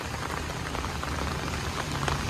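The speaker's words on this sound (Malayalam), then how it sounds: "മഴ നനഞ്ഞോണ്ടിരിക്കുകയാണ്" Steady rain patters densely on surfaces nearby, an even, continuous hiss of drops with no other sounds.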